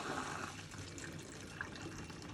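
Water pours steadily into the water-only tank of a steam appliance for pleating, a continuous broadband splashing and trickling that stays close and fairly quiet throughout, with no talking.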